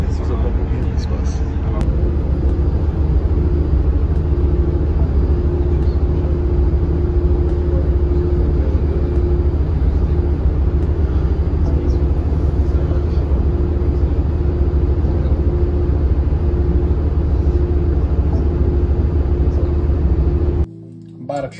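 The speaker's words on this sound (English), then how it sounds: "This is a local Phoenix bus." Steady low engine rumble and road noise from inside a local Phoenix city bus while riding, a continuous loud drone with a faint tonal hum throughout, cutting off abruptly near the end.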